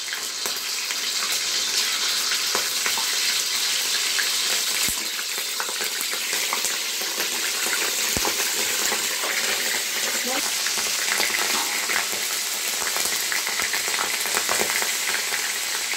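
Ginger garlic paste sizzles in hot oil in a pan while cooking chicken yakhni pulao, a steady, fairly loud crackling hiss that continues without break.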